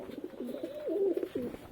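Black-green pigeons coo in a cage, a close, steady run of low throaty coos with a rolling rhythm.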